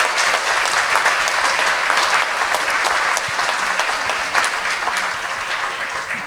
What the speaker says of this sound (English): Please, a round of applause for Secretary Condoleezza Rice.